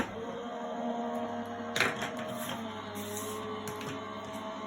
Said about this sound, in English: I'm going to run that through my Gemini